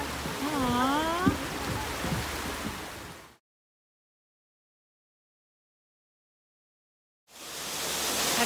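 A waterfall heard from behind at San Diego Safari Park gives a steady, dense rushing roar, with a brief voice near the start; the sound cuts to silence midway, then the roar returns.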